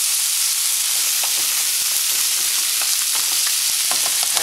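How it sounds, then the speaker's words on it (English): Sweet and sour sauce being stirred in a hot pan: a steady, close frying hiss runs throughout, with scattered soft scrapes and pops from the stirring. "Alright, get the stirring."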